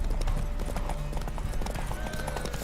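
Horse hooves clip-clop in a steady fast rhythm during a video game horse race, moderately quiet and continuous, with faint game sounds around them.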